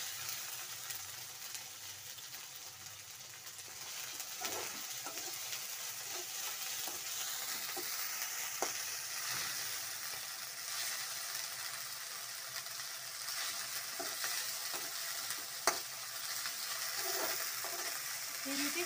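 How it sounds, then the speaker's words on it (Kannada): Garlic ginger paste frying in a pan while cooking capsicum chili, a continuous soft sizzle with occasional stirring scrapes and clicks, fairly faint and steady throughout. "ಬೆಳ್ಳುಳ್ಳಿ ಶುಂಠಿ ಪೇಸ್ಟು ಚೆನ್ನಾಗಿ ಫ್ರೈ ಆಗಲಿ."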